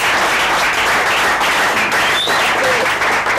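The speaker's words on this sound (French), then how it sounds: "Est-ce qu'on peut acclamer Jésus-Christ?" A church congregation breaks into sustained applause to acclaim Jesus Christ, dense clapping from many hands filling the room at steady loudness throughout, with faint voices mixed underneath.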